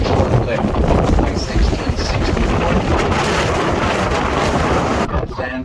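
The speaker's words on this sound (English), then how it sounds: "Sorry guys, it's so windy." Strong wind buffets the microphone on a family boat cruise, giving a loud, rough, rumbling roar that continues almost without break and cuts off near the end.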